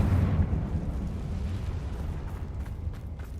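Confringo blast spell explosion in Hogwarts Legacy, a loud booming burst at the start that fades into a lingering deep rumble.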